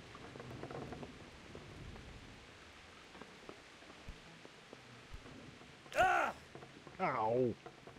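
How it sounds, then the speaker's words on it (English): Steady soft rain patters throughout with scattered drops in the video game Kingdom Come: Deliverance, while a voice briefly speaks twice near the end. "Yeah, it's raining."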